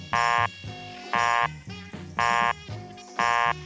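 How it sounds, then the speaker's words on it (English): An old telephone busy signal plays as four evenly spaced loud beeps, each about a third of a second long, with softer tones and faint background sound in the gaps. "Dialing your own number in those days always gave you a busy signal."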